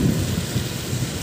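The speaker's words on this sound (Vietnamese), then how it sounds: "Mưa không quá lớn, mưa nhỏ thôi." Light rain falls steadily on a Phu Quoc street in Duong Dong, a dense even hiss with low rumbling undertones and no voices.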